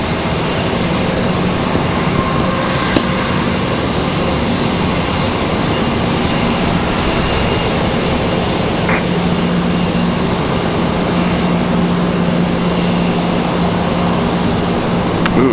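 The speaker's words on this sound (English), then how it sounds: "So here we go, Republic Airways 5826. Coming in from JFK, New York." Republic Airways flight 5826 from JFK arrives at Raleigh-Durham International Airport, heard as a steady, loud, broadband roar that holds evenly for the whole stretch with no voices.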